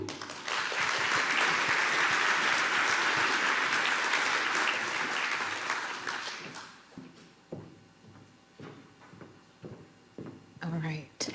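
Audience applause welcoming a speaker to the stage at a CDL Super Session conference, a dense steady clapping that fills the room for about six seconds, then thins into scattered claps and fades, with brief talk near the end.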